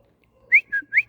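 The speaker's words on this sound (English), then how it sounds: "So she likes a whistle." A person whistles to a dog during training: three short rising and falling whistle notes in quick succession, clear and close, with no talking.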